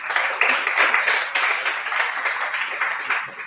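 Steady applause from a crowd, a dense wash of clapping that holds at an even level throughout without voices standing out.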